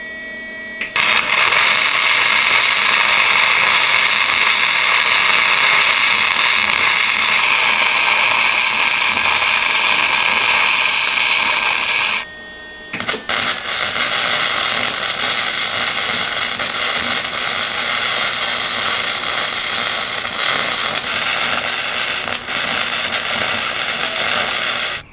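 Angle grinder smoothing and rounding welds on a steel bracket for a 1978 Jeep J10, a loud continuous high whine running steadily, cutting out briefly midway, then resuming with a rougher, grittier tone.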